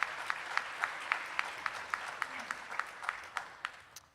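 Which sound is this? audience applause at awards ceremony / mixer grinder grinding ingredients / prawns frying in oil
audience applause at awards ceremony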